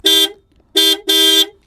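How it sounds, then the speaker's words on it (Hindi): A Maruti Victoris car horn with a normal-quality, simple sound, mounted low at the front, honks three times up close: one short blast, a pause, then two more in quick succession, loud and bright. "सिंपल सा PPP वाला हॉर्न है।"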